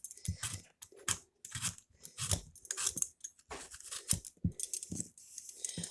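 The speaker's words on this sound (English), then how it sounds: "So I'm just going to peel this one" An apple being peeled by hand for a double apple cake, giving a series of short, close scraping and crunching strokes in an irregular rhythm, with brief pauses between cuts and no talking.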